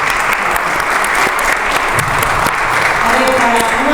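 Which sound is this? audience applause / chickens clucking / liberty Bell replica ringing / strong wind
audience applause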